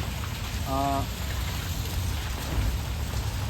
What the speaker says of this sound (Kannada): ಮಳೆ ಬಂತು ರೋಡಲ್ಲಿ, ಎಲ್ಲ ಸೈಡಲ್ಲಿ ನಿಂತಿದ್ದೀನಿ